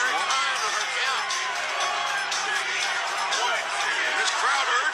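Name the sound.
crowd cheering in a wrestling video game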